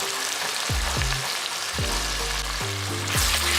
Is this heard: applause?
no